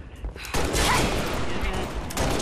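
Rapid gunfire bursts in a first-person shooter video game, loud and continuous after a brief pause, with a player's voice talking over the shots.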